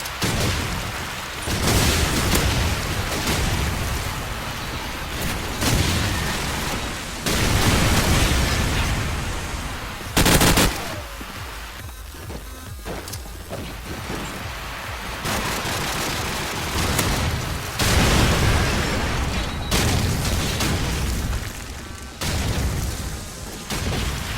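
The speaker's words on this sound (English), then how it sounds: "here's 1 or 2 clips of these nades working against Suga" Grenade explosions and gunfire in Call of Duty 4 ProMod, dense booming blasts and bursts layered over continuous loud game noise across the whole stretch.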